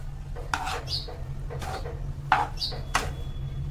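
Macaroni pasta sautéed in a pan over a low gas flame, with several sharp scraping and clinking strokes of a utensil against metal over a steady low hum.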